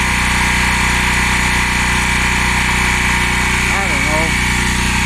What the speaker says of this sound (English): It's been a while since I used a compressor.